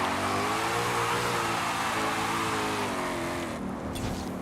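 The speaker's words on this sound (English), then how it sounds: "This is honestly more like a modern sports car with a muscle car sound." A car in Forza Horizon 5 with a deep muscle-car engine note, a loud steady harmonic drone that shifts pitch slightly as revs change, alone without talk.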